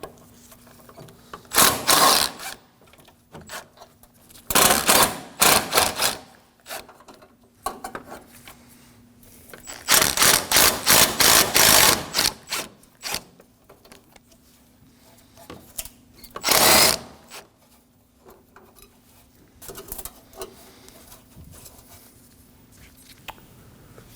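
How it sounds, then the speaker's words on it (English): A ratchet spins out the 10mm bolts at the bottom of the AC condenser on a 2016-2022 Honda Pilot 3.5L, in several loud rapid buzzing bursts separated by quiet pauses. "We can remove our two 10mm at the bottom of the condenser."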